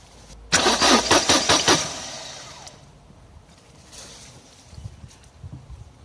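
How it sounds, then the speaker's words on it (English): A Mercedes SLK R170 starter motor cranks the engine in a quick, loud rhythmic burst of about six turns without firing, then cuts off into quiet workshop background. "it cranked, so we know the starter is okay"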